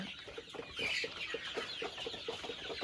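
Egyptian Fayoumi hens cluck softly and repeatedly inside a farm shed, a steady pulse of low clucks under a bright, busy background of other birds.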